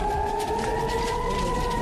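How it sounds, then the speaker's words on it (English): An air raid siren wails steadily in Ashkelon, a sustained loud tone holding throughout with no talk over it. "Air raid sirens went off repeatedly in the town of Ashkelon."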